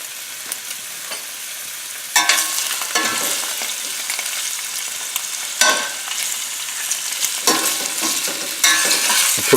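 Sliced sausages fry in olive oil in a pan, a steady crackling sizzle with several louder bursts as pieces are stirred or turned, close and alone without talk.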